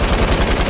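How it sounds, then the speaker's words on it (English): LMG fire in Fortnite, a fast, loud, evenly spaced burst of shots packed into under a second. "I killed them with an LMG."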